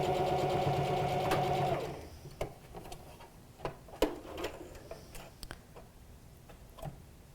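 A sewing machine stitches together fabric pieces for a homemade face mask, a steady close hum for about two seconds, then stops and leaves scattered clicks and taps of fabric being handled.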